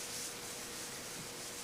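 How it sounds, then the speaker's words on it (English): Fingertips dipped in oil varnish finish rub it steadily into the wooden surface of a fireplace mantle, a soft, quiet, continuous swishing with no talk. "So all I do is just dip my fingers in and rub it in."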